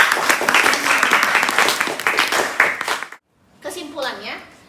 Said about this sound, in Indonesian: Oke, beri tepuk tangan untuk Suci.